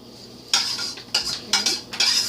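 A pot of food with chorizo being stirred with a utensil, four distinct scraping strokes clinking against the pot at a steady interval, fairly close and with no talk.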